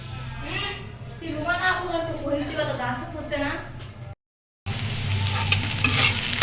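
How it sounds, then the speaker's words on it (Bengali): Chopped onion, chili and garlic sizzle and get stirred in a frying pan, a steady crackling fry under someone talking, followed after a brief gap by louder sizzling. "পেঁয়াজ মরিচ রসুন দিয়ে দিলাম ভোনা পেঁয়াজ মরিচ রসুন কুচি দিয়ে দিচ্ছি"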